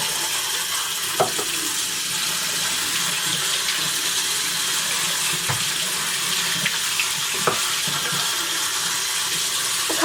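Faucet water runs steadily into a sink while foster kittens are bathed with dish soap to kill fleas, a constant hissing stream with a few faint knocks and splashes and no voices.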